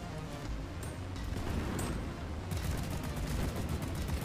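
Sci-fi weapons fire rattles steadily in the co-op mining shooter Deep Rock Galactic, a dense stream of rapid shots heard moderately close with a louder stretch in the second half.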